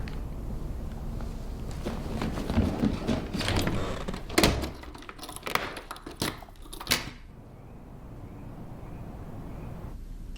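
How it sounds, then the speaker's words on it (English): A door being handled and locked in a horror video game, heard as a run of close, sharp clunks and rattles around the middle, then fading into quiet room tone. "Yeah, lock that door."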